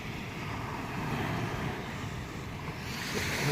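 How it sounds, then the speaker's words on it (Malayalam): Continuous rushing surf of evening sea waves crashing on a beach, with gusty wind noise over it and no voices. "വൈകുന്നേര സമയം കടലിൽ നന്നായിട്ട് തിരയടിക്കുന്നുണ്ട്"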